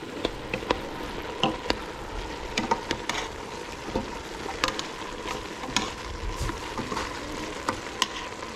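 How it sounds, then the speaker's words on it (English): Chopped red potatoes stirred into a hot, sizzling pot, with a steady frying hiss broken by frequent scraping stir clicks and soft squishes, close and moderately loud, no talk. "now I'm going to add in the potatoes. Some red potatoes chopped up. Give it a stir"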